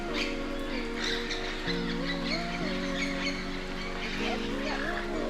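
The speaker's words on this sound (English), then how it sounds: "So there's tons of parrots. You can hear them squawking all up there in the trees." Parrots squawk and chatter high in the trees near Tobago's Nylon Pools and Argyle Waterfall, a busy overlapping chorus of calls heard at a distance over steady background sound.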